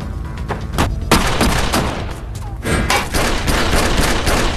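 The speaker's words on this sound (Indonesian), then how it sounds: "Dan terjadilah baku tembak." Rapid bursts of gunfire crack in a dense, continuous film shootout, with sharp loud shots overlapping throughout.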